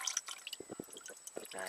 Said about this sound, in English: Gas oil mix. So all that's draining out.